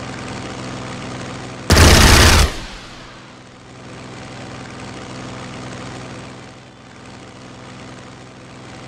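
Tactical bomber engines in Strategic Mind: Blitzkrieg hum as a steady low drone, broken near the start by a sudden loud burst lasting under a second, then settling back into a continuous engine rumble.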